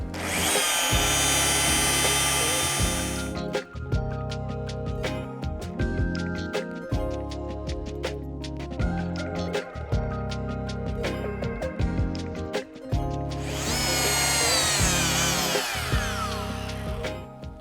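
A rotary polisher works buffing paste over glossy plastic trim inserts between car windows, a steady loud motor whir running throughout with brief pauses and a high-pitched whine swelling at the start and end.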